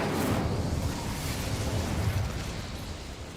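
An Incendio fire spell cast in Hogwarts Legacy erupts in a whooshing, explosive burst of flame with low booming rumbles, then fades into a roaring, crackling blaze.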